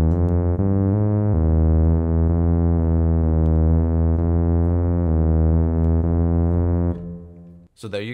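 Sustained buzzy modular synth tones from a Box11 module step through a microtonal sequence of closely spaced pitches, loud and steady, then fade out near the end.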